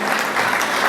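An audience applauds at a Women's Day event in Geneva, a short, dense burst of close clapping lasting under a second.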